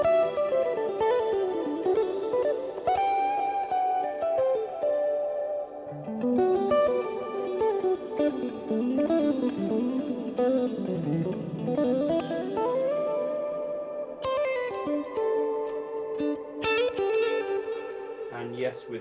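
Electric guitar played through a Quad Cortex with delay feedback and reverb mix, sustained melodic notes trailing into echoing tails, loud and continuous under occasional talk.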